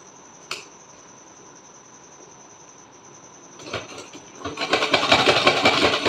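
A sewing machine stitches fabric for a Laddu Gopal dress: a quiet stretch with one sharp click, then the motor whirs up into a loud, fast rattling run close by.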